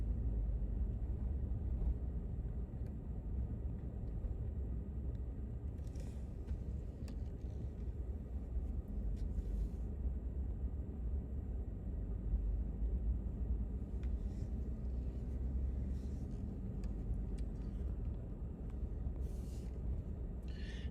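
An RV rolls slowly through an alley, its steady low engine and road rumble continuous and fairly faint, with a few light rattles and clicks over the top.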